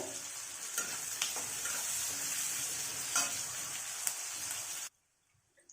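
Onions and green chillies sauté in a kadai while browning, giving a steady close sizzle punctuated by a few scraping stirs. The sizzle cuts off abruptly near the end, leaving near silence.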